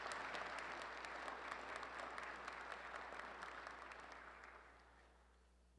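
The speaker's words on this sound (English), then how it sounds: "Please join me in a round warm of applause for all of them." A City Club audience at a US Senate Republican primary debate gives a quiet round of applause that holds steady, then thins and fades away to near silence at the end.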